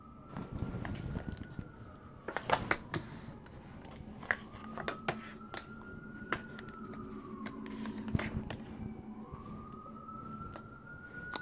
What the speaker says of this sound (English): So many sirens today,